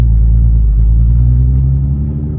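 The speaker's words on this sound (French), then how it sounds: "Ah, le son de la F-Town, il est juste monstrueux." A VW Golf 5 R32 fitted with an F-Town Aggressor 3.5-inch exhaust accelerating, a deep, loud, resonant engine rumble heard close and continuous from inside the car, with no talk.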